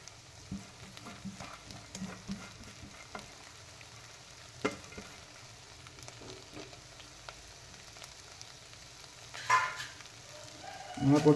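Vegetables with mint and coriander stir-fry in a pan for vegetable biryani, giving a faint, steady sizzle with soft stirring scrapes, and a louder clatter of utensils near the end.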